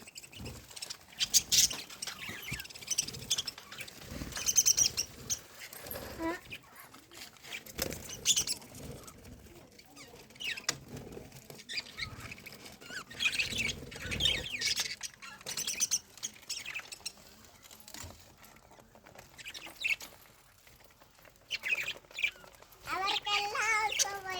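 Small lovebirds chirp and tweet in quick, scattered bursts at close range, with wing flaps and rustling between calls and a voice talking intermittently alongside the birds.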